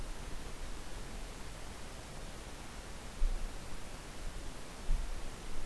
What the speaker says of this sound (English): You will hear and feel air coming out of the outlet of the compressor.